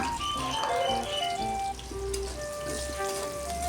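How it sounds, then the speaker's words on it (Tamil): Small shallots sautéing in a pan for a spicy fry, giving a loud, continuous sizzling crackle close by, with faint scraping or stirring noises under the hiss and nobody speaking. "சின்ன வெங்காயம் போட்டுக்கோங்க நல்லா வதக்கிக்கலாம்"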